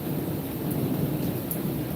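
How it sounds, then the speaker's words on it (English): Thunder rumbles through a nighttime garden storm, a steady low roar with rain falling throughout and no voices. "There's the thunder."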